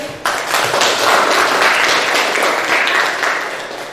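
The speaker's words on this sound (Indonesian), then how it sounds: "kita beri tepuk tangan untuk kelompok AB" A classroom of students bursts into sustained applause, a dense, steady clatter of many hands clapping for several seconds.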